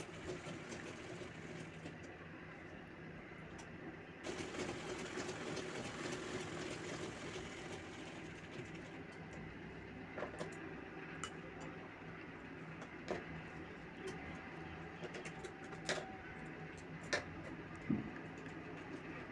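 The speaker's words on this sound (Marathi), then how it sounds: "आता आपण साईडची बाजू शिवून घेत आहोत." A sewing machine stitches the side seam of a baby boy's kurta, a faint continuous mechanical whir with light rhythmic clicking that steps up in intensity after a few seconds and carries on steadily.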